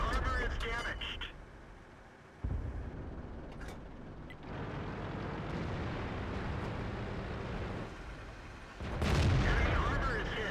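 WZ-131 tank cannon fire in the World of Tanks video game on the Lakeville map: deep booming blasts, one near the start and another near the end, with steady engine rumble between and a voice talking over it.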